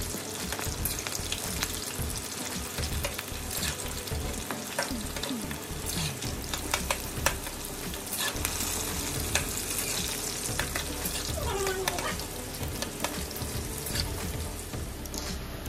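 Cabbage pakoras fry in hot oil, giving a steady, dense, close sizzle and crackle that runs unbroken throughout with no talking.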